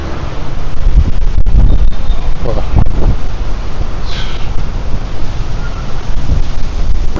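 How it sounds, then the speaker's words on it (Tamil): Strong wind blows on a road in Da Nang, roaring constantly as heavy buffeting across the microphone with brief faint sounds in the background. "இந்த ரோடுக்கு வந்தோடனே தாங்க காற்று இருக்கு."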